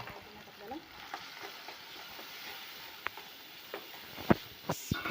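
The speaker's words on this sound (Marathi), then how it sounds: "आता ह्याच्यामध्ये आपण 3 चमचे लाल तिखट घालून घेऊया." Red chili powder stirred into masala frying in a pan for a Marathi vada rassa, a soft steady sizzle broken by scattered spoon scrapes and clinks that grow sharper toward the end.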